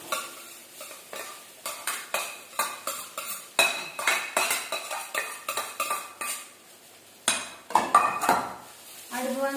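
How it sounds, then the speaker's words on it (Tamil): Cooked rice is stirred into wilted greens (drumstick leaves) in a pan, giving a steady run of scraping, clinking spoon strokes over a light sizzle, close and fairly loud with no talk. "நம்ம வேக வச்சு சாதம் இருக்குல்ல அது கூட கலந்துடணும்"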